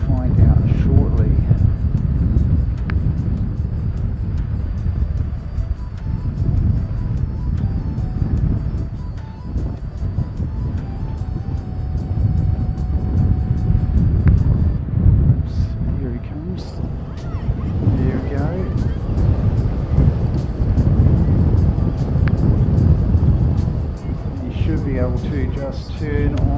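Fixed-wing aircraft landing on a crosswind runway in extreme winds at Christchurch, a low rumbling engine drone mixed with wind noise across the whole clip, under a commentator's talk.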